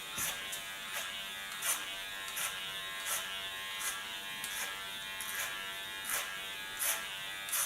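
An electric hair clipper buzzes steadily close up during a buzz cut, a bright continuous whine with small rhythmic surges as the blade tip works along the hairline, no talking over it.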